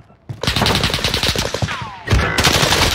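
Rapid automatic gunfire in a first-person shooter game rattles continuously in dense bursts, loud and close, with a brief pause before another sustained volley.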